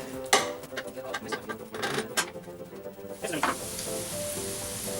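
Olive oil with onions and garlic sizzles in a pan while being stirred, a steady frying hiss broken by several scraping stir strokes, close and moderately loud.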